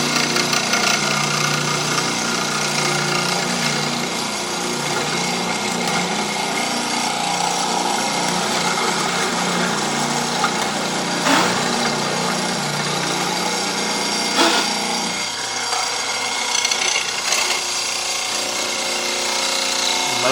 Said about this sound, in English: simply a matter of lowering it down, drilling a square hole